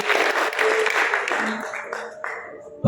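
Crowd applause at a school's traditional Javanese wedding ceremony event: a dense, lively burst of clapping from a large audience. It thins and fades out over a few seconds while a voice speaks over it.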